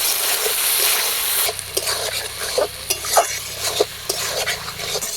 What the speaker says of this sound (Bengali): মশলাটা দিয়ে আবারও কিছুক্ষণ একটু নাড়াচাড়া করে নেব